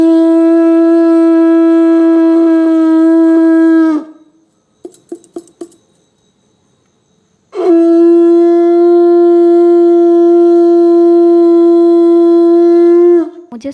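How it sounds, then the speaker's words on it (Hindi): A conch shell blown during a Laxmi puja, two long steady blasts with a clear ringing tone, separated by a short pause with faint clicks and rustles. "मुझे शंख फूंकना इतना नहीं आता"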